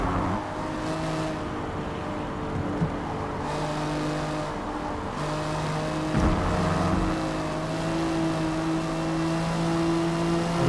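A race car in Forza Motorsport drones steadily at close range, its engine note holding and shifting through gears with slight pitch changes, no voices over it.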